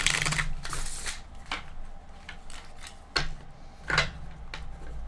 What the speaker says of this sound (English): let me go ahead and shuffle it a few more times.